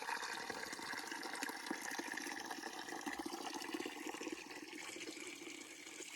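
Water from an ice-cold artesian spring in the Appalachian Trail wilderness flows and splashes steadily, a continuous bright babbling rush heard up close with no talking.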